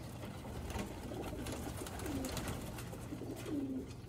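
Rooftop pigeons of a Sialkoti breed coo softly in short rolling bursts against a steady background hum, with a couple of throaty calls standing out.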